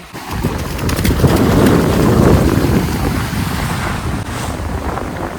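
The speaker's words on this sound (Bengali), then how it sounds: "প্রচন্ড জোরে বাতাস বইছে, বুঝতেই পারছো" Strong wind blasts across Mandarmani sea beach, a loud, continuous roar buffeting the microphone for several seconds with no voices.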